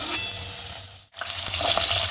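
Vegetables frying in oil for Bengali shukto, a steady close sizzle broken by a brief silent gap, then stirring clatter and crackle resuming louder, with no talking.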